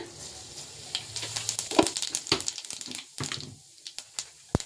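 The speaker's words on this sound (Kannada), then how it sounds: "ನಾನು ಇವಾಗ ಇದಕ್ಕೆ ಸ್ವಲ್ಪ ಜೀರಿಗೆ ಹಾಕ್ಕೊಳ್ತೀನಿ" Cumin seeds dropped into hot oil in a pan give a fizzing sizzle broken by sharp scattered pops and clicks, loudest early and thinning toward the end.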